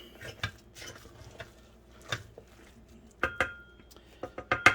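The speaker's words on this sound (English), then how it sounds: "let's stir it up." Spoon stirring party rice with garlic and jalapenos in a pot, giving several sharp clinks and scrapes against the metal at irregular intervals, close and moderately loud, with no talking.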